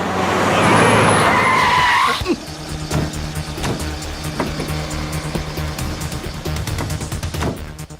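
A car roars and skids in a loud tire screech lasting about two seconds, then engine noise rumbles steadily beneath occasional knocks and thuds.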